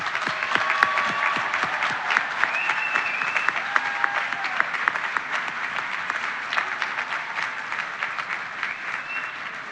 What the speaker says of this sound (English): So please join me in another round of applause celebrating our Bearcat teachers.